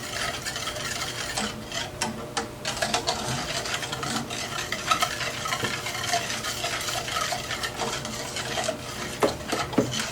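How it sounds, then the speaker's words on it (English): A utensil stirs banana pudding with sugar in a pot, making continuous close scraping and swishing with occasional light clinks against the metal, steady throughout. "And just keep stirring and stirring and stirring."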